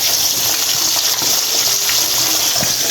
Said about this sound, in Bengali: তো মাছগুলো ভেজে নিচ্ছি